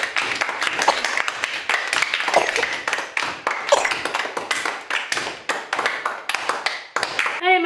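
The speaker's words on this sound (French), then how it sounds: "Bravo Amandine, on fait l'applaudissement." A small school class claps together in a brisk, uneven patter of applause that continues for several seconds, close by, with a few voices mixed in.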